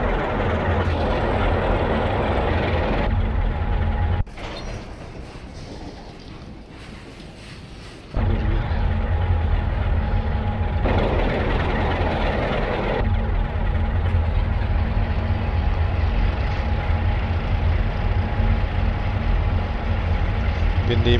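A train in Romania drones loudly with a deep, continuous low rumble heard from inside the cab, dipping quieter for a few seconds in the middle before surging back to full strength.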